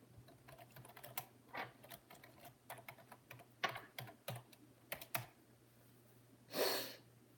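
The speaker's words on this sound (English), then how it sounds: "I'm gonna type one message." Computer keyboard typing a message, a quiet close series of irregular key clicks in short bursts, with a soft breath or sniff near the end.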